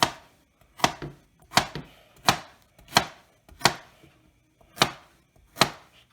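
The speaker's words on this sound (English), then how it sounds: "I'm just chopping away" A knife chops carrots firmly on a cutting board, eight sharp, evenly spaced strikes in a steady rhythm with quiet pauses between them.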